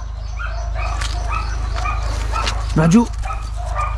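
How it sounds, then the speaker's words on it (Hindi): A male German shorthaired pointer gives a single short, whining bark amid ongoing talk outdoors, with a steady low hum in the background. "अंदर आवाज़ आ रही है, कुत्ता ही ना खुल गया वे।"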